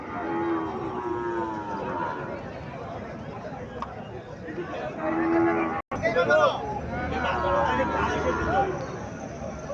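Cows mooing at a village cattle market in Comilla, Bangladesh, several long low calls standing out over steady crowd chatter and nearby talking voices.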